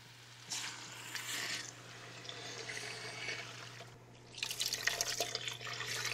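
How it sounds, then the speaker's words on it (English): Water pours from a tap into a pot for onion soup stock in a home kitchen, two bursts of splashing filling separated by a short pause, close and moderately loud with no talking. "Now we add water."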